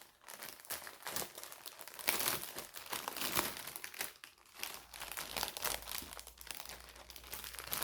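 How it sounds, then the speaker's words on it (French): A plastic sachet of cross stitch supplies being opened, with close, continuous crinkling and crackling of the plastic that rises and falls for several seconds with no voices. "je vais ouvrir le sachet"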